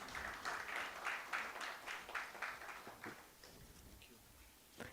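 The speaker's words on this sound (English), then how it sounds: "Can we have a huge round of applause," An audience at a corporate conference breaks into applause, brisk clapping from a crowd for a few seconds before it tapers off into quieter room sound.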